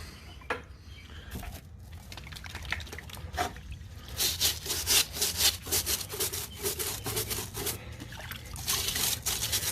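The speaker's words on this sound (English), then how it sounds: "so I'm gonna clean the tire up real good, the brakes back there, the rims" Rhythmic back-and-forth scrubbing of a car tire and rim with a stiff brush, speeding up into steady rapid strokes with faint wet dripping sounds.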